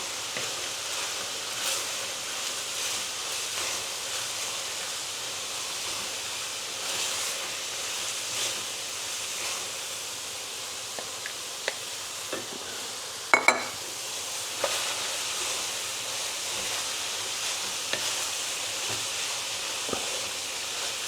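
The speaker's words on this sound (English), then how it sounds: "We're just going to pop in some of these beans. Mix them through." Beans stirred into chilli beef in a pan, giving a steady soft sizzle and hiss throughout, with a few light scrapes and clinks of a utensil against the pan partway through.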